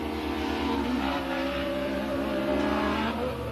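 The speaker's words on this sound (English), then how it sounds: "Yeah, you can hear that car. 3 cylinders." Three-cylinder race car with a sequential gearbox lapping Firebird Motorsports Park, a loud sustained engine drone with shifting pitch as it accelerates past, fairly near, with no voices heard.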